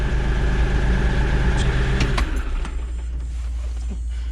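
A diesel tractor engine runs steadily at a loud, close idle with a low rumble and a few clicks, settling slightly quieter toward the end; the start itself is not clearly caught.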